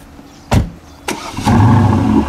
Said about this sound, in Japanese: ちょっと車動かしますね。